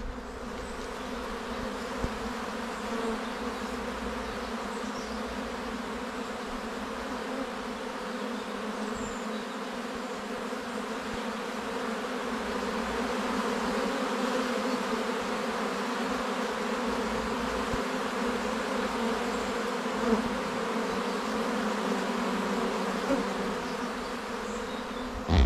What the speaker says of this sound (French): il y a plein d'abeilles, elles sont en activité